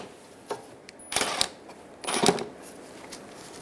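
A socket wrench works a 10 millimeter bolt on the bottom of a 2011-2014 Hyundai Sonata headlight, giving two short bursts of quick ratcheting clicks with faint handling noises between them.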